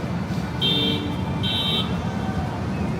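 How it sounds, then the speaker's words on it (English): Two short car horn beeps, evenly spaced, sound at moderate distance over a steady low hum on a snowy New York City street. "Not sure who's beeping."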